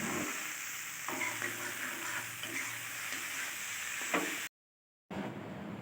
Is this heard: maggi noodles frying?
yes